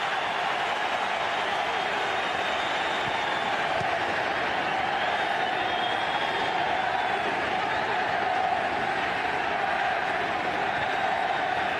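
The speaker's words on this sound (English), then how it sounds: "The crowd are absolutely in raptures here in the MetLife Stadium." A packed football crowd at MetLife Stadium during a Juventus versus Barcelona International Champions Cup match keeps up a dense, steady roar of cheering throughout, loud and unbroken.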